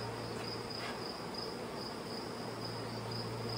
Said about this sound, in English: Brought some bees into the honey house.